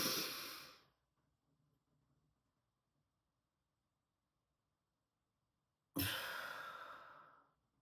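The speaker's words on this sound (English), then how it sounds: "take a deep breath in for 4 seconds, 4 to 5 seconds." A slow breathing exercise: a deep breath drawn in, a few seconds of near silence while it is held, then a long, airy exhale blown out, close and clear.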